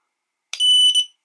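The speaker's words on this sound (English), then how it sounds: "you get a beep from the drone, and the props don't spin" A DYS Shark Mako ready-to-fly RC drone gives a single sustained electronic beep on arming in stability mode, a steady high tone of about half a second that breaks briefly before one more short beep, alone and fairly loud.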